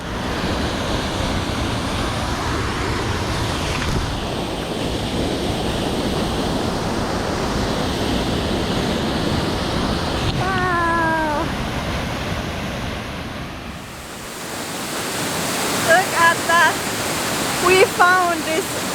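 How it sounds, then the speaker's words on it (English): A secluded waterfall in Lombok, Indonesia roars as a loud, dense, continuous rush; a few bird-like chirps and a brief gust shift near the end. "We found this like secret waterfall."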